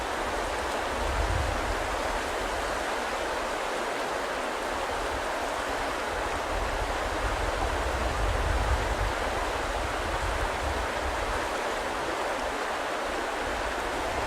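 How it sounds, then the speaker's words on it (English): Water of the Cuyahoga River rushes steadily nearby in a continuous, even wash of sound with no breaks and no voices. "have us listen to the sound of the Cuyahoga River that's right behind me"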